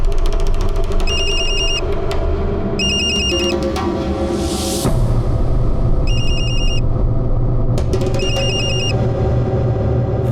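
A telephone rings in repeated bursts of electronic trills over a low, steady background rumble.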